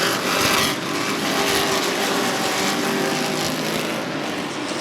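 Sportsman stock cars racing at Rockford Speedway, a broad continuous engine roar from a pack of cars at mid distance, steady and loud with slight swells, no voices.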